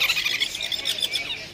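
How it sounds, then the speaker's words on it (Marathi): A parrot at Crawford market in Mumbai gives a rapid series of shrill, harsh squawks, close and fairly loud, over faint background hubbub. "पोपट बघा मित्रांनो."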